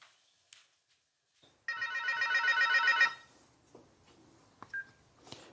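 A telephone rings once with a loud, buzzy electronic trill lasting just over a second. Faint clicks and small noises follow in an otherwise quiet room.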